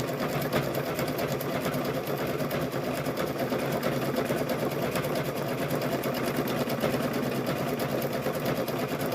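A sewing machine stitches a pocket onto an apron, a steady fast whirring hum running continuously and close-up with no pauses.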